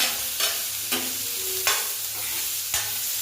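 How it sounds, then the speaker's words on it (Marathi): Raw green tomatoes sauté in a pan for chutney, with a continuous loud sizzle broken by several spatula scrapes and stirs, close up and with no talk. "तर आता बघा टमॅटो थोडं थोडं परतायला सुरुवात झाली"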